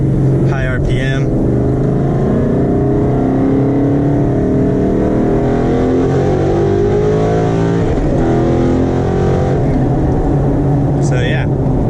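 A car engine revs hard at high RPM through a second-to-third gear shift with a race-spec short shifter, a loud, sustained droning roar that dips briefly at the shift before climbing again.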